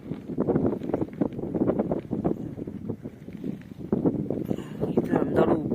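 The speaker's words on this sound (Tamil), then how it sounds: "காற்று தான் எவ்வி அடிக்குது" Strong wind blows steadily across open salt pans at Thoothukudi, a loud, gusty roar buffeting the microphone throughout and surging again near the end, with no other sound standing out.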